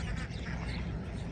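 Ducks quack in a brief burst on calm early-morning water, a busy flock sound heard close and fairly loud.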